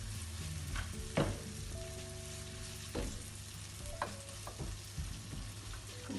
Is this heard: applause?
no